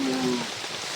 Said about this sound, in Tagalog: Mahina na. Ulan pa.